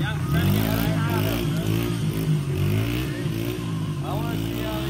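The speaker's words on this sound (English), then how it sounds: "he's just revving her to the fucking tits" A motorcycle engine revving hard at a 2018 Cayuga event, loud and sustained with steady harmonic drone, heard under continuous excited talk from nearby people.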